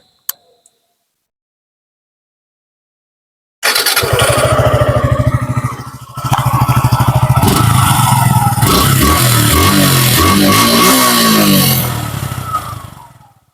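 A 2024-model motorcycle engine, near and loud, starts abruptly after near silence and settles into a fast, even idle putter with a brief dip, then continues with slight changes in pitch before trailing off.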